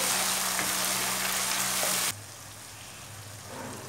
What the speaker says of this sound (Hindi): दो टमाटर डाल लेंगे चार पांच हरी मिर्ची डाल लेंगे दो तीन मिनट तक भून लेंगे